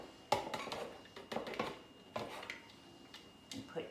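Shredded cabbage dropped into a bowl, a series of soft rustling thumps and light clatters at uneven intervals, close and fairly quiet.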